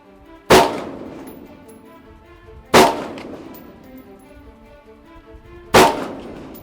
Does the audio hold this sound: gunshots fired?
yes